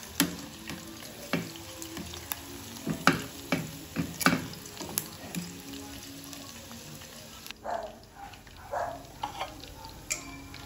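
Pork ribs fry in a pool of hot oil with a dense, close sizzle, punctuated by irregular sharp pops and spatters, partly dying down toward the end, with no voices.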